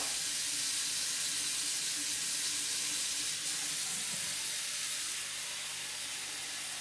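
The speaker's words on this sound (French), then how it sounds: "Je mets de l'eau froide dedans." Cold water running into a salad bowl in a home kitchen, a steady close hiss of flowing water that fills the whole stretch without pause, with no voices.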